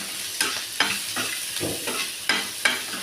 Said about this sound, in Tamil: இதையும் போட்டு நல்லா கிண்டிக்கலாம்